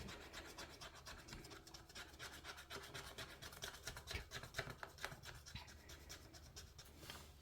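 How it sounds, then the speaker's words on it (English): Continuous close rasping and scratching as a coin scrapes the coating off a scratch-off lottery ticket, with rapid repeated strokes throughout at a quiet level. "I'm already getting tired of scratching off the whole thing."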